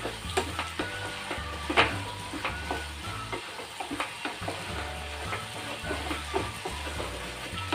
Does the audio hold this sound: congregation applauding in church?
no